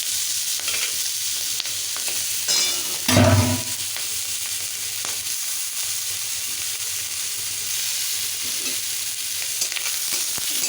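Boiled elephant foot yam frying with burnt coconut and green chillies in a pan, a continuous close sizzle with scraping stirs and one louder clattering burst, no voices.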